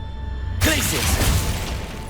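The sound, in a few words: Glacius freezing spell in video game Hogwarts Legacy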